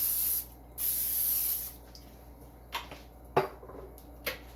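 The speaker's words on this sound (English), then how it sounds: "Veggie oil spray." Two short hissing bursts of vegetable oil aerosol spray onto a griddle, close by, followed by a few faint clicks and taps in a quiet room.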